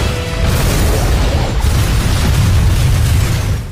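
Film explosion as fire reaches a forklift by the sea, a loud sustained blast with crackling, roaring debris noise that fills the whole moment.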